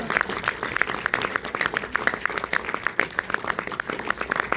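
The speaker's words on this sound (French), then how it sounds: "Ça va faire chaud au cœur d'entendre les applaudissements" Audience applause fills a cinema at a film premiere at the Pathé in Nantes, with dense, steady clapping throughout and some voices mixed in.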